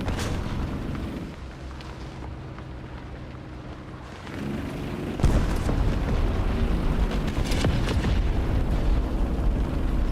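Tank cannon fire and explosions in War Thunder, a rumbling engine bed broken by a sharp heavy boom near the middle, followed by louder continuous blast rumble and scattered pops.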